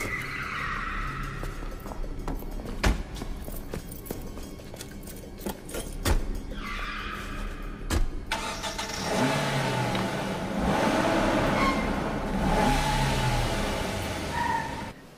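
In an action film scene, people get into a car with scattered clunks and clicks, then the engine starts and revs as the car pulls away, the engine noise swelling and holding loud to the end.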